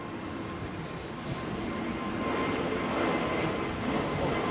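A United airliner in new livery, trailing smoke, climbs away overhead from Heathrow runway 09R, a steady broadband jet roar that swells gradually and holds loud and close throughout.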